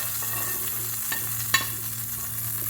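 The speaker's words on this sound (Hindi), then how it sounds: "मैं इसको तड़का दे रहा हूँ ज़ीरे का और कलौंजी का।" Steady low sizzle of cumin and nigella seeds frying in hot oil for a dal tempering, with a faint background hum and a couple of light clicks, close and continuous.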